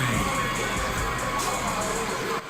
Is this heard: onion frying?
no